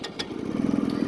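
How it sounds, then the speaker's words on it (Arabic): A Sanya two-seat motorcycle engine fires up on a slope, settling into a close, quick, chugging putter over about a second. "باش تشوفوا معنا الموتور شحال كيقد يعطي ان شاء الله في الوطيه وفي الطلعه"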